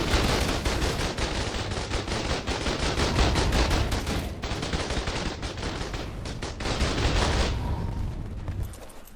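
Turrets mounted on a Tanker's back in ARK: Survival Ascended blaze away at wyverns in rapid, sustained automatic bursts, loud and continuous with brief gaps, with no voices over the gunfire.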